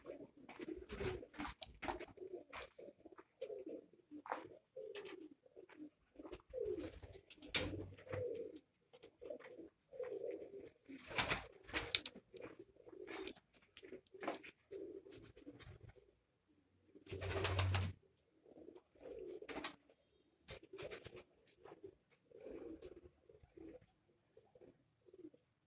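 High flyer pigeons in a breeding setup cooing continuously in soft, repeated rhythmic phrases, close by, with occasional sharp clatters and wing noises breaking through.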